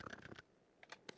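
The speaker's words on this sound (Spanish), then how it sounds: "Lo estaba checando, le pica el teclado." Soft, quiet taps on a computer keyboard, a few scattered keystrokes near the end after a short burst at the start.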